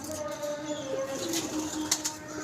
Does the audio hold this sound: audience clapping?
no